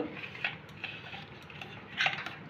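A metal spoon scrapes around the inside of a bowl while a steamed Bengali egg curry (bhapa egg curry) is prepared, giving a few faint, soft clinks and scrapes spaced over a quiet background.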